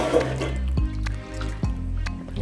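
Homemade yoghurt mixture stirred in a pot, with wet squelching liquid sloshes and a couple of soft knocks as the spoon moves through it, close and fairly loud.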